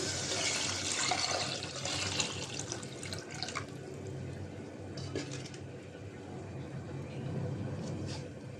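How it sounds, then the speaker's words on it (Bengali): Water is poured into a pot of spiced potato curry, giving a soft continuous splashing and gurgling rush, fairly faint and steady over a low background hum. "আলুর মশলাটা কষানো হয়েছে আমি পানি দিয়ে দিলাম"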